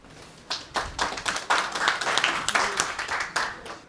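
Scattered audience clapping at an International Day of Peace celebration evening, sparse and uneven claps building into moderate applause, a few individual hands standing out, fairly close.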